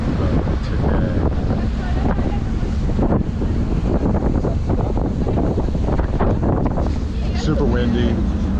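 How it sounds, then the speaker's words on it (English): Strong wind buffets the microphone in a steady, loud roar beside choppy open sea near a large naval boat, with waves churning underneath throughout. "Super windy, water's choppy"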